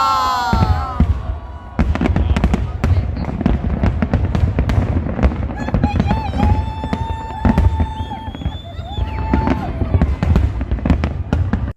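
New Year fireworks over Sydney Harbour Bridge, a rapid close series of sharp bangs and crackling bursts with whistling rockets rising between them, and people talking nearby underneath.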